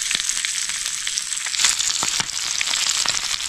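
Fish fries in a pan outdoors, with a constant close sizzle broken by frequent sharp pops and crackles and no talking.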